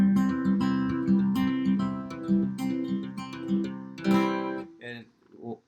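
Acoustic guitar fingerpicked in a steady, busy pinch-and-roll pattern at full tempo, bright plucked notes ringing over an alternating bass, ending with a few scattered softer notes.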